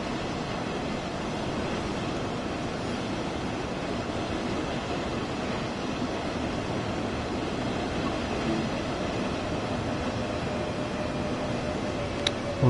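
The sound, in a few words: train arriving at station in Train Sim World 4 video game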